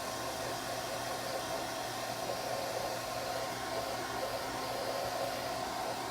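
A blow dryer runs continuously at close range during a home sign-making workshop, its even, loud rushing hiss unbroken throughout, with no voices over it.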